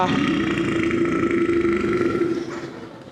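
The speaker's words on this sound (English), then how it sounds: "It was the biggest burp I'd ever heard." A long, loud, deep burp rumbles on for about three seconds, steady and close, trailing off at the end.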